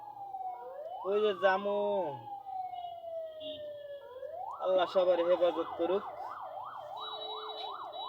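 An ambulance siren wails through jammed Dhaka traffic, sweeping up and down in long whoops and then rapid yelping cycles, loud and nearby, while someone talks over it.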